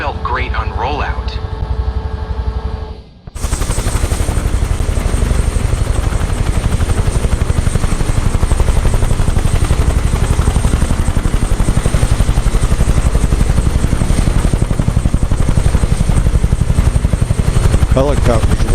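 A helicopter in the Microsoft Flight Simulator 2024 game thrums loudly with rapid, continuous rotor chop and turbine whine. A short quieter stretch with a voice comes first, then the droning, pulsing engine sound fills the rest steadily and up close.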